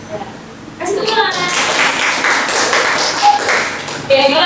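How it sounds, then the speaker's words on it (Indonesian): Classroom applause during a sociology lesson, a group of students clapping steadily for about three seconds right after a classmate finishes presenting, with some children's voices mixed in. "Kasih tepuk tangan."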